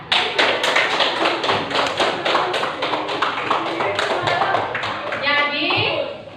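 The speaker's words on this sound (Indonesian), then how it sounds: "Berikan aplaus untuk kelompok 1" A class of children applauds several student groups in a classroom, steady dense clapping throughout at close range, with a few voices mixed in.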